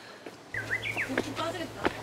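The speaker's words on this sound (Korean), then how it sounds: "새소리." Birds chirping on a hillside hiking trail in Jeju, with a few short whistled calls over low background rumble and footsteps, while people talk nearby.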